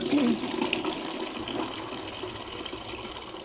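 Water drains from a newly installed kitchen sink, a steady close gurgling and trickling wash that slowly fades, with faint voices in the background.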